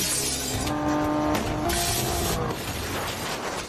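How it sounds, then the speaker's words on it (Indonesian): Car crash in an Indian film scene: a car loses a rear tyre, hits something and rolls over, with loud tumbling impacts and metallic crunching over a dense roar, alone without talk. "Dia meledakkan salah satu ban mobil belakang hingga mobil itu menabrak dan terguling jatuh."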